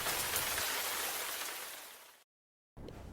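Steady, dense rainfall hisses evenly and fairly close for about two seconds, then cuts to silence before a quieter wash of rain returns, in a Pride and Prejudice audio drama.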